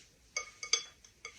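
A spoon or utensil clinks sharply against a bowl while ginger snap cookie dough is mixed by hand, giving about five quick, bright taps in an uneven rhythm with no talking.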